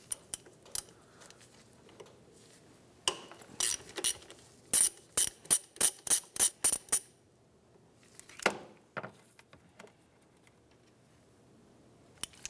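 A ratchet wrench on a 10 mm bolt at the back of a power steering line on a 2003-2011 Honda Element, a close run of sharp metallic clicks in a quick burst, then a few scattered ones.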